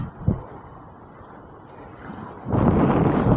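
Wind buffeting a microphone on a sailboat, a soft steady rush that swells into a louder gusting roar near the end.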